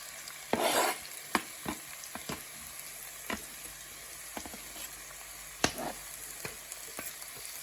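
Onion and sweet pepper frying in hot oil, a soft steady sizzle broken by a burst of louder spitting and several sharp clinks of a utensil stirring the pan, close by with no talk.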